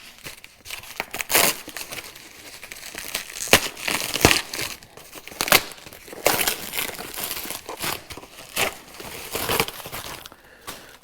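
Crinkling and crunching of plastic packaging as a BMW X3 brake duct for the driver's side is unboxed, with irregular bursts of rustling and sharp crackles over about eleven seconds, close by and without speech.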